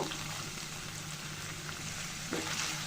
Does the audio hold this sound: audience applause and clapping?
no